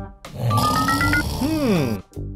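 A cartoon-style snore sounds in a children's science animation: a loud, exaggerated rasping inhale with whistling tones, then a wavering groaning exhale, all one drawn-out breath.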